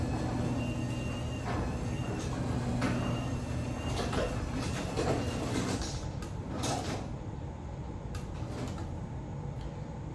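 A garage door opener runs steadily as it lowers a garage door, a continuous mechanical drone and rattle with a few clunks toward the end, moderately quiet and with no talking.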